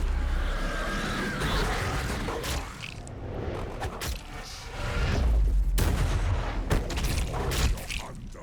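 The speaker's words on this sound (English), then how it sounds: "they just tank all these shots here" Gunfire strikes Ork Burna Boyz in Warhammer Battlesector: dense, continuous volleys of shots and booming impacts, loud and sustained with brief lulls and renewed bursts of fire.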